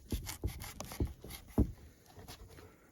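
A Ganzo G771 folding knife saws through uneven rope in several short, quiet rubbing strokes spaced about half a second apart, close up with no talking.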